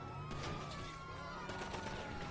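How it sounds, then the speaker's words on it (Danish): Several sharp gunshots in GTA 5 crack out, fairly faint and distant, over a steady background hum with a high whining tone. "jeg kan bare høre skud"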